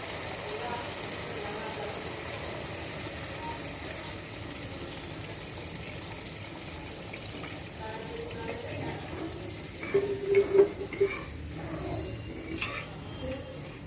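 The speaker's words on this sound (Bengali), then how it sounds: "এখন আমরা ঝোলের পানি অ্যাড করব কিছুটা" Water poured into liver curry frying in a pan: a steady, hissing gush with faint clinks, underneath a low background murmur and a louder splashing burst near the end.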